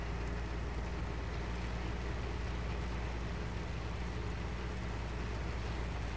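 Steady, droning engine rumble of a tractor in a farming game, a constant low hum at even volume with no talk over it.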